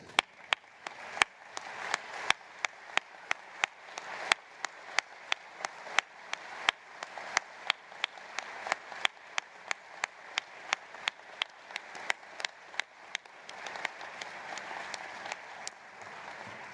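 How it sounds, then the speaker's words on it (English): Scattered, sparse clapping from an audience honoring advisory council members at a museum event, with distinct individual claps in an uneven rhythm throughout. "I'd like the members of the Advisory Council to stand and receive your applause and appreciation."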